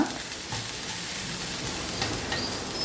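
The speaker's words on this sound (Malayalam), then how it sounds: "മഞ്ഞൾപ്പൊടി ഇട്ടു വീണ്ടും ഇളക്കുക" Onions fry with turmeric powder in coconut oil while being stirred, a continuous dense sizzle with light scraping strokes, moderately quiet and close, with no voices.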